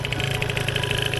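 A Zombie Zip scooter engine runs steadily while being broken in, a close, even idle with a rapid low putter and a constant mid-range drone throughout.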